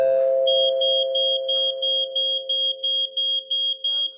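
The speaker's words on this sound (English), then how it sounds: "Right, a smoke detector." A smoke detector alarm beeps in a steady, rapid series of shrill electronic pulses. The beeping sounds close and loud, over a constant low sustained tone.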